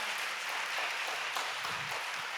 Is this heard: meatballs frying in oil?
no